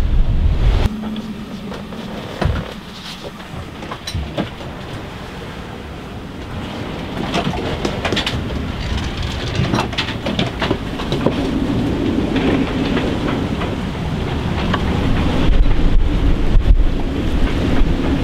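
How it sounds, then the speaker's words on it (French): Strong wind roars across the microphone over surging Atlantic sea during an ocean crossing by boat, steadily building in force, with no voices heard. "on entend le vent qui monte quoi"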